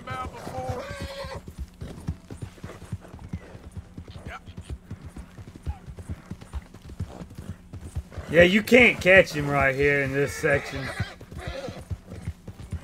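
Hooves of a fast horse galloping in a cowboy-themed video game, a rapid steady clip-clop with a brief whinny, playing under casual talk among players.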